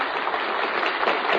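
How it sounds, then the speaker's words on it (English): A 1939 radio game show studio audience cheers and claps for a contestant from Winchester, Virginia, a steady, loud wash of noise filling the whole moment. "some of your fellow Virginians are giving you the Virginian cheer"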